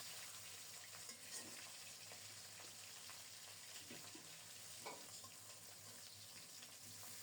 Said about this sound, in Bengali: খুব সুন্দর মতো লাল লাল করে ভাজা হয়ে যাচ্ছে